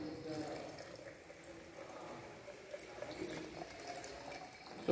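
Water is poured or run into a container holding fine aggregate, a steady, faint trickling wash lasting throughout, soft and fairly close.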